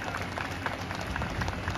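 Crowd applause at the Devgad Misal food festival, a dense continuous wash of many hands clapping at a steady level throughout.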